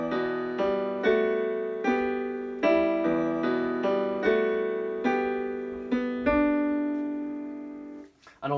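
Solo piano plays the introduction of a song, with repeated sustained chords and melody notes struck at a steady moderate pace, clear and close, fading at the end.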